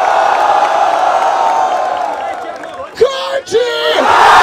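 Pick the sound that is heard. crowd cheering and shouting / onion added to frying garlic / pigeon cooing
crowd cheering and shouting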